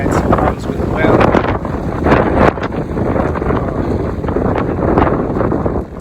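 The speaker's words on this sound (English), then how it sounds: "A little windy today" Strong gusty wind buffets the microphone outdoors at an off-grid solar station site, a loud rough rumble with bursts and lulls, with a voice speaking faintly underneath.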